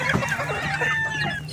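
Native chickens clucking repeatedly at close range, a busy overlapping run of short calls over a steady low barnyard hum.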